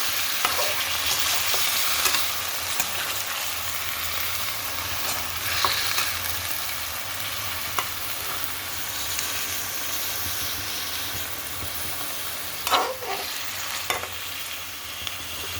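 Tomatoes and coriander frying in a pan with green chillies, giving a continuous soft sizzle and hiss with occasional stirring clinks, moderately quiet and steady with no talking.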